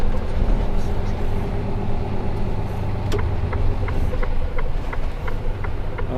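A truck engine in diesel particulate regeneration drones in a low, steady rumble from inside the cab in slow traffic, with a faint, evenly spaced ticking and a brief voice underneath.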